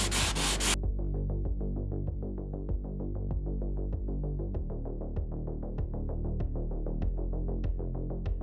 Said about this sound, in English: you want to keep on sanding until you see nothing